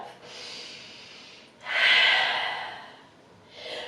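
Deep breath during a yoga class: a soft inhale, then a louder, breathy exhale through the nose, followed by the start of another quiet breath, close and unaccompanied.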